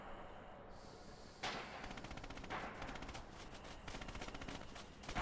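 A German MG in Red Orchestra 2 rattles out sustained bursts of rapid automatic fire, loud and close, joined by scattered rifle shots of a busy battle.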